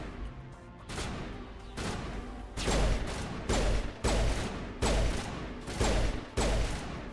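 Pistol fire in the video game Mass Effect cracks out in a rapid series of about nine sharp, loud shots with brief reverberant tails, spaced unevenly and quite close.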